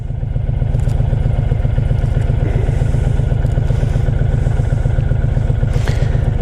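A 2013 Honda 1300 Interstate motorcycle on a cold-day test ride, its engine a loud, steady low throb with a fast even pulse, heard up close at a constant pace with light wind noise.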